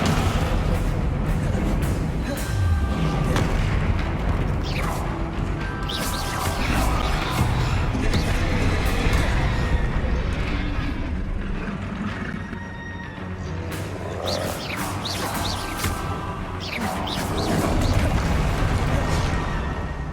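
Spell impacts in Hogwarts Legacy crash and thump in a dense, continuous barrage of booms and whooshes over about twenty seconds. Shouted spell incantations are heard throughout, mixed with busy game effects.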